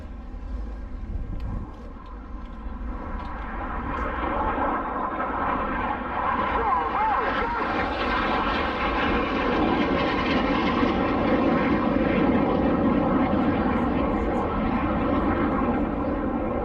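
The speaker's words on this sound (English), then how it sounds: "the synchro pair turn in for their final pass at 100 feet and that closing speed of over 700 miles per hour" Red Arrows synchro pair jets close at over 700 mph for a final pass at 100 feet during an airshow, a loud broad jet roar building steadily and holding, with a commentator speaking over it.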